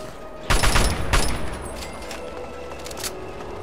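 A sentry bot fires rockets in Fallout 3, a couple of loud blasting bursts followed by fainter explosions and rumbling combat noise.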